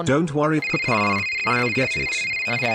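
A telephone rings in a video game, a steady high electronic ringing tone running under a character's voiced dialogue throughout.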